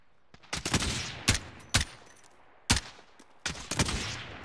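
Gunfire rings out during a squad firefight in a video game shooter: several sharp, loud bursts of automatic shots in irregular clusters, close by, with quiet gaps between them and no talk.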